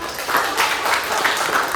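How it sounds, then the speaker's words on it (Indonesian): Short round of clapping from a group, likely children in a physical education class, a quick, uneven patter of hands lasting under two seconds. "beri tepuk tangan"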